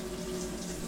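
Water runs steadily out of a hot tap, fed from a cylinder in a small cupboard, making a soft continuous hiss and trickle that stays at an even, fairly quiet level the whole time.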